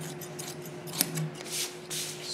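Scissors cut through a fabric square for a pillow in a short, close snip followed by soft rasping slices over a faint steady hum.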